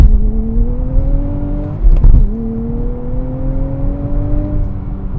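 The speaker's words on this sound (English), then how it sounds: "Get to stop, rev it up." A Nissan Z with a manual gearbox revs hard from a standstill and launches, the engine note climbing steadily and loud, with a brief burst of noise at the launch.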